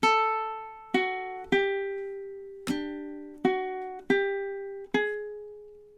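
A ukulele plays measure 10 of a theme tune, seven plucked notes in an uneven, bouncy rhythm, each ringing and decaying, close and clear with no voices.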